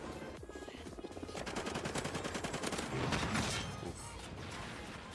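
An AK-12 assault rifle fires in the video game Call of Duty: Ghosts, a rapid automatic rattle of shots that builds into a dense burst, then fades into a brief clatter.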